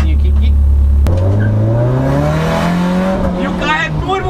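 A turbocharged Chevette drift car idles loudly, then revs up and pulls away, its engine climbing steadily in pitch, with a person talking over it.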